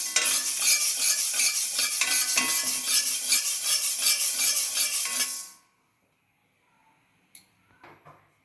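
Green gram dry-roasting in a pan, stirred with a spoon in rapid scraping, rattling strokes for about five seconds, then near silence with a couple of faint clinks.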